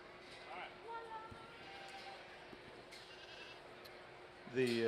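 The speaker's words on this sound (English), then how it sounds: "It's a heck of a pair of show goats." Show goats bleat at a 4-H market goat show: a few faint calls early on, then one louder, closer bleat right at the end, over low arena murmur.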